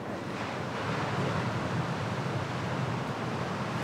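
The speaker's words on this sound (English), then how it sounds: "This is a beautiful beach." Ocean waves wash steadily onto a beach at Sayulita, Mexico, a broad continuous roar of surf with some wind rumble, no voices.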